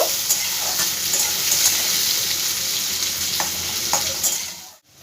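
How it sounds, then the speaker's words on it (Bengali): Steady, loud hiss of onions frying in hot oil, with a few soft stirring clicks, fading out at the very end. "পেঁয়াজটা আমি সম্পূর্ণ দিয়ে দিচ্ছি পেঁয়াজটা একটু ভাজা ভাজা করব"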